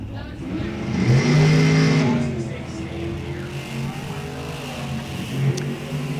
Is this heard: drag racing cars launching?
yes